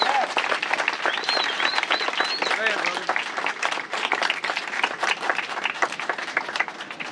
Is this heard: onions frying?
no